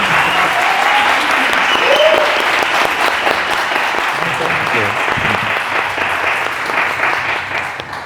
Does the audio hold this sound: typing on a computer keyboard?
no